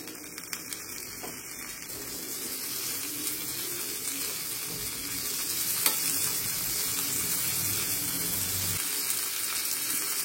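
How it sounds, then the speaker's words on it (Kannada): Curry leaves frying in half a spoon of oil in a pan, with a steady close sizzle that swells slightly toward the end, with no talking. "ಎಣ್ಣೆ ಹಾಕೊಂಡು ಕರಿಬೇವು ಸೊಪ್ಪನ್ನ ಫಸ್ಟ್ ಹಾಕ್ತೀನಿ ನಾನು."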